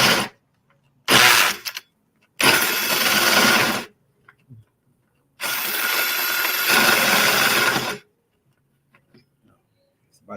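A battery drill fitted with an auger head whirs in several bursts of varying length, loud and close, with silent pauses between runs.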